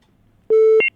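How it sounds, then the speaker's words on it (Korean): A two-tone electronic telephone call signal beeps once, clean and loud, standing alone against near silence. "네, 지금 전화 왔어요."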